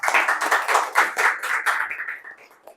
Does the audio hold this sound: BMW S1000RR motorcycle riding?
no